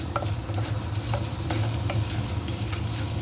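Chana dal and dried chillies frying in oil in a clay pot: a steady close sizzle with scattered light pops and crackles, maybe a little stirring, and no speech.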